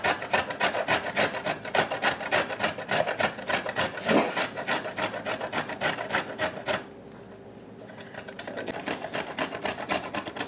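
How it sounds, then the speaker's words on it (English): Carrots are shredded on an old-fashioned box grater in a steady, rapid rasping rhythm of close, loud strokes, which pause briefly and then resume. "I'm shredding carrots, guys."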